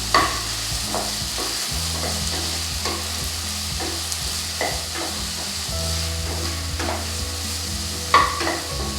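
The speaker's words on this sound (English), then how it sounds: "And we'll saute this till the mixture turns mushy." A spinach and chicken curry mixture sautés in a pan with a constant sizzle, irregular scrapes and taps of stirring throughout, and a low steady hum beneath, no voices.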